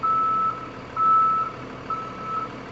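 Shunt truck reversing while jackknifing a trailer in a yard: loud intermittent backup beeps, about four evenly spaced tones, over a steady diesel engine rumble nearby, no talking.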